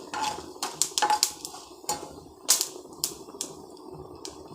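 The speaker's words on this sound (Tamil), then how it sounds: "இப்போ கொஞ்சம் தேங்காய் எண்ணெயில் கடுகு, உளுத்தம் பருப்பு, சீரகம் போட்டு விட்டுருக்கேன்" Mustard seeds, urad dal and cumin spluttering in coconut oil, heard as sharp irregular pops and crackles in quick clusters, close and fairly loud, with no voices.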